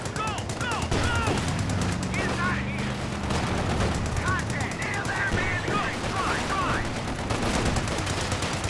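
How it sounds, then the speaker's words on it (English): Rapid automatic gunfire and bursts of shots crackle continuously through a squad-based video game firefight, loud and dense, with a player's voice talking over the shooting. "I'm shooting."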